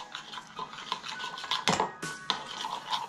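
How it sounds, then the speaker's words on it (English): Olive oil marinade stirred briskly in a bowl, a utensil clinking and scraping against the sides in quick repeated strokes, close and fairly quiet with no talking. "So, gonna mix it together"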